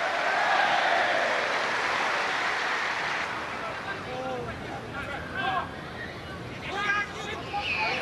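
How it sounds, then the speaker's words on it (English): Football crowd at a Bohemians versus Sligo Rovers league match cheering in a broad roar that gradually subsides, with a commentator talking over the noise. "Listen to the cheer."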